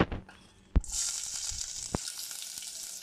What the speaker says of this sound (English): I'm going to add my oil in. You can see my pot is a bit hot on the stove, and then I'm going to add my onion.